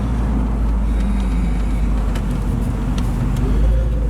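A Ford Mustang drives along at steady speed, its low engine and road rumble loud and continuous throughout, with no talking.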